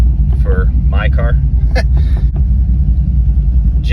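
C5 Corvette engine idling after a jump start, a steady low rumble with someone talking over it.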